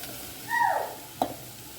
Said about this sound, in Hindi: और अब इसे ना 1-2 मिनट के लिए भून लेते हैं।